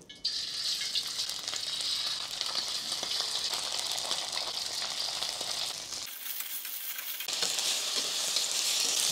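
Chicken frying in fully heated oil in a wok for a restaurant-style Chinese chicken vegetable dish, a loud, steady hiss of sizzling that dips briefly before surging back.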